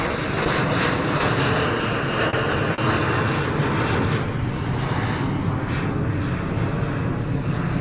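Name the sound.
KLM Embraer jet taking off in a steep climb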